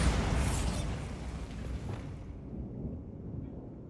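A Bombarda spell blast in Hogwarts Legacy erupts as a deep, rumbling explosion that booms at the start and slowly decays into a fading low roar.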